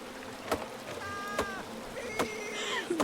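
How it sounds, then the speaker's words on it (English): Bees buzz in the King's Quest game, with faint drifting hums rising and falling over a steady ambient background, punctuated by a few soft knocks. "Bees."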